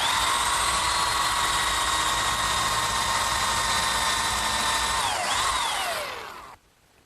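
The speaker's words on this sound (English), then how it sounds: "I'm going to drill and counterbore." Power drill boring and counterboring screw holes in pine for a Shaker tall chest, a steady high whine held close and loud, then the pitch sags as the bit slows and the motor winds down to silence.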